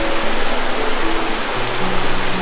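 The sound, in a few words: waterfall and river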